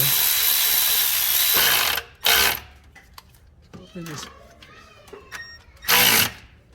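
Intake manifold bolts are tightened on a Toyota Tacoma 4.0L V6 with a ratchet: loud bursts of rapid clicking, broken by pauses that hold softer metallic ticks and handling sounds, close to the engine.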